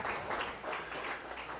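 Applause from a circus cabaret audience for a performer, a steady wash of many hands clapping at moderate loudness, with a murmur of voices faintly underneath, continuing without a break.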